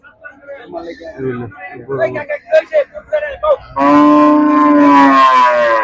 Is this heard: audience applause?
no